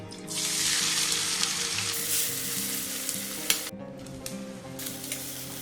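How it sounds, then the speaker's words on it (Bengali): Chopped onions frying in oil with cardamom and cloves, a close, continuous hiss of sizzling with intermittent scraping stir strokes and a few sharp clinks of the utensil against the pan, no voices. "এবার আমি এর মধ্যে দিয়ে দিচ্ছি পেঁয়াজ"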